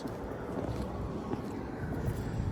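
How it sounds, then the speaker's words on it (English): Wind rips across a flat TPO commercial roof, a steady low rushing buffet that blows into the microphone throughout. "That's the wind ripping across."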